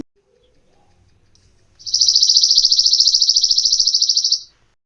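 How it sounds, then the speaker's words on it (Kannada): A loud, rapid high-pitched chirping trill from a small sparrow, close by, lasting a couple of seconds after near silence. "ಇಲ್ಲೇ ಗುಬ್ಬಿ ಕೂಗಾತಾವ ನೋಡ್ರಿ ಹೆಂಗ್ ಕೂಗಾತಾವ"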